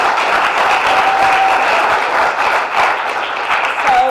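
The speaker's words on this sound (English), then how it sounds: "can we give him a round of applause?" A crowd claps steadily, a dense, loud wash of applause that holds throughout without letting up.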